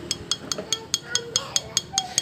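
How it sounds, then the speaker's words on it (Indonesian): Metallic knocking from a Honda Revo Fit motorcycle engine, a piston striking the cylinder block, heard as about eleven sharp, evenly spaced clinks in quick succession, close and clear over faint background noise. "bunyi tadi itu adalah bunyi piston yang banting di blok."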